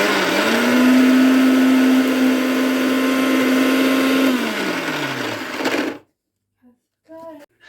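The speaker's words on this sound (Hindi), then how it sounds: "मिक्सी में इसको ग्राइंड कर लूँगी। और फिर देखते हैं कैसी चटनी बनती है।" A kitchen mixer grinder whirs loudly and steadily while grinding chutney of chillies and spices with a little water, its motor tone dropping as it winds down and stops, followed by brief quiet talk.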